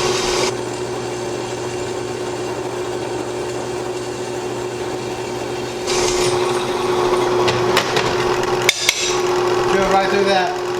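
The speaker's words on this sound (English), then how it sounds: "let's get the drill press out. See what this thing can do." A drill press powered from a Bluetti EB55 power station drilling through wood, a steady motor whine that rises into a rougher, louder grinding as the bit cuts in, with a brief clunk near the end, close and loud.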